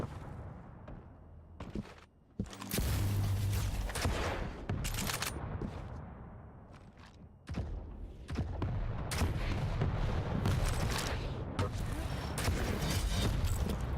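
Rocket and railgun fire in a Quake Champions match, a barrage of loud blasts and explosions, dense and nearly continuous with brief gaps.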